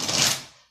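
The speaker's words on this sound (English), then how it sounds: "So I will shuffle the cards until I feel the spirit has moved me" A deck of tarot cards is shuffled in a single short riffle, a soft papery flutter that fades out within a second.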